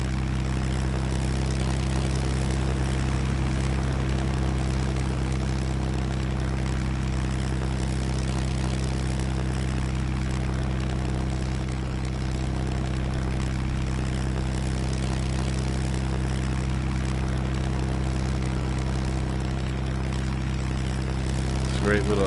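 A steady, droning propeller engine of a small sport plane in the UltraWings flight game, continuous and unvarying throughout with a low humming buzz.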